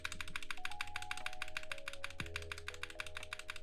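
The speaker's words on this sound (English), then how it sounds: "if I tap my keyboard" Rapid, steady keystrokes tapped on a computer keyboard, a close, continuous clatter of keys with a faint electronic hum running underneath and no voices.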